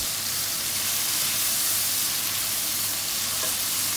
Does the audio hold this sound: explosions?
no